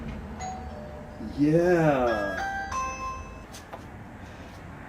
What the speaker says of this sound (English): This is our video doorbell, the Ring.